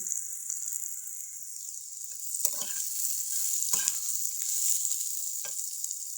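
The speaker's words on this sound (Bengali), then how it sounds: "এই যে কাঁকরুল ভাজছি আমি" Slices of spiny gourd (kakrol) fry in a pan with a steady, close sizzle. A few soft scrapes and stirs break through at intervals.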